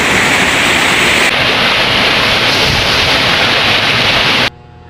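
Loud, steady rushing water of Taluntunan Falls, a waterfall in Manugtong, Ayungon, Negros Oriental, filling the clip with continuous broadband roar close by before cutting off abruptly near the end.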